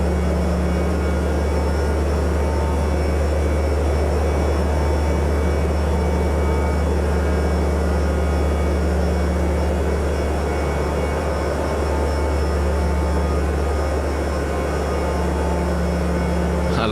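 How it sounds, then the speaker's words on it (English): A steady, droning aircraft engine in Microsoft Flight Simulator 2024 holds a constant hum with a strong low tone and a faint whine, loud and unbroken under a bush flight. "you can tell by the sound of the engine whether you're climbing or descending"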